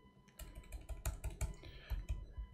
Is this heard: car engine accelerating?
no